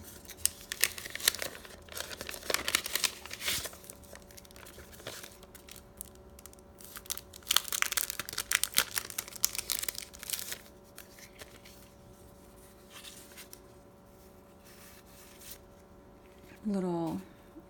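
Crinkly plastic sticker packaging from a planner kit being handled and torn open, a long run of close, rustling crackles and tearing bursts that ease off toward the end, followed by a short voiced sound.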